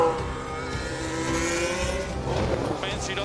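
Formula 1 race cars roar along the track, a continuous high engine whine with shifting revs under race commentary.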